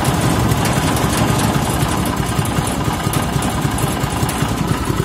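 A new four-wheeled motorized cart's engine runs at a steady idle, a loud, close, rough chugging rumble that holds constant with no pauses and no talking over it.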